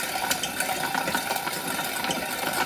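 A hand food mill grinds tomatoes for sauce, its crank giving a continuous, close rasping churn with quick ratcheting clicks and a wet squish, steady throughout without any talk.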